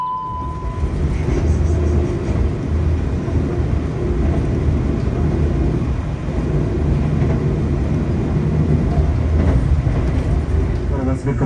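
Gaya Baru Malam Selatan passenger train stopped at Arjawinangun station in Indonesia, a steady loud rumble of idling rail cars and engine noise throughout, with a brief tone at the start and voices mixed in.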